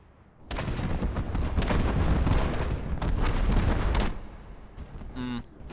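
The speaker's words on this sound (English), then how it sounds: "Some explosions are so loud." Loud blast from a video game explosion, a sustained roaring burst of about three and a half seconds that cuts off abruptly, followed by a short tonal electronic chirp.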